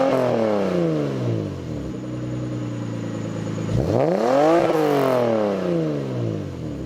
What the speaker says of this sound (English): If you guys forgot what that exhaust sounds like